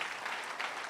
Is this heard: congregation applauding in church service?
yes